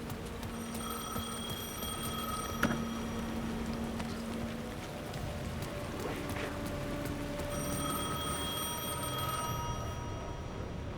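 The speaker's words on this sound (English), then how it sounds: "The phone was ringing again." A telephone rings in the video game Alan Wake II, a repeating electronic trill in evenly spaced bursts with a pause between them, heard at moderate level over a low, dark ambient drone with no talking.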